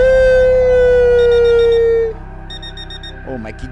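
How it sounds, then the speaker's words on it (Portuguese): An alarm clock going off at 3 a.m., with a loud steady electronic tone followed by rapid repeated beeps, mixed with background noise in an indoor setting. "Mas que despertador do caralho é esse?"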